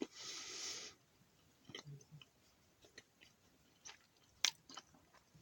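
Crunchy, soft MRE food being chewed up close, a burst of crunching at the start followed by quieter, scattered bites and mouth sounds.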